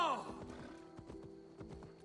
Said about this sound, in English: I guess I gotta ride on my own horse then